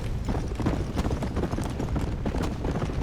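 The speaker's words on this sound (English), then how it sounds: "Is that actual people riding horses?" Several horses clip-clop in Red Dead Redemption: Undead Nightmare, a steady overlapping patter of hooves on the ground at close range, fairly loud and continuous with no talk over it.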